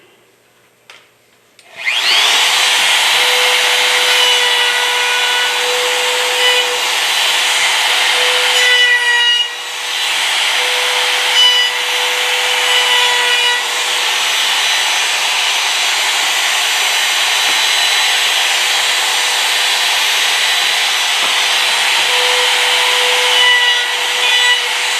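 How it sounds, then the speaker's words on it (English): A router cuts the top corners of a wooden picture holder: a loud, close, steady high whine with grinding, starting after a short quiet lead-in and dipping briefly around the ten-second mark. "So I'm just going to quick route this top corner and this top corner on this one"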